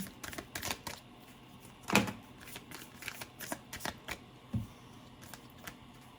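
Tarot cards shuffled by hand in quick riffling bursts, a sharp louder flurry near the middle, close and fairly quiet with no talking.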